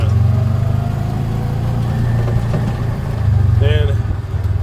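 Farm tractor engine on rural Arkansas land rumbling steadily while driving downhill, a close, low chugging drone with a slight rise near the end.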